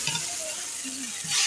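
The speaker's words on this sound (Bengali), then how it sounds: "সুন্দর করে কষানো হইতেছে" Cumin paste sautés in oil in a kadai over a clay stove, a continuous soft sizzle with a faint background hum, brief and low, with no talk.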